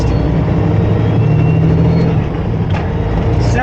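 A semi truck with an 18-speed manual transmission pulls away slowly in first gear, its diesel engine a loud, steady low rumble close by with a slight rise in effort.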